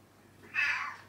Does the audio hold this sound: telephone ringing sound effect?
no